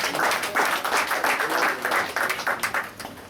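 Audience at an eighth-anniversary community celebration in Indonesia clapping in a moderate, somewhat uneven burst of applause that swells and fades over a few seconds, with a faint voice mixed in.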